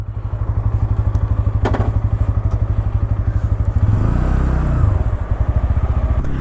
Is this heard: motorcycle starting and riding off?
yes